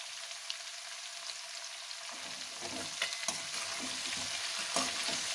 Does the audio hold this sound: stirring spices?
yes